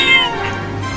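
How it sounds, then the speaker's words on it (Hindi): A cat meows loudly close by as it tries to get out of a cage, one drawn-out wail that stays steady before trailing off. "अरे ये बिल्ली तो पिंजरे में से निकलने की कोशिश कर रही है।"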